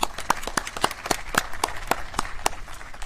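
Scattered, sparse clapping from a small audience at a county plaque dedication ceremony, individual claps spaced fairly evenly and steadily across a few seconds, close and moderately loud.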